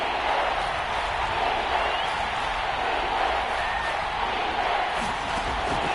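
Football stadium crowd roaring steadily before a big third down in a Dolphins game, a dense, continuous wall of cheering noise with no distinct claps standing out.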